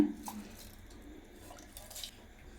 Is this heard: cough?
no